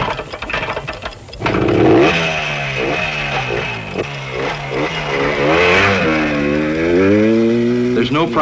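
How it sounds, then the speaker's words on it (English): Enduro motorcycles at the 1971 International Six Days Enduro in El Escorial, Spain, setting off through the countryside: loud, close engines rev and accelerate in rising, overlapping sweeps, with a commentator talking over them. "Off goes Malcolm and 348 others through the countryside of Spain"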